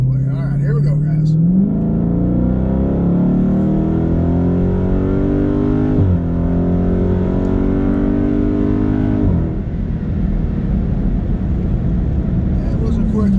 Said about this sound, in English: You can hear that Hemi fart as she changes her gears.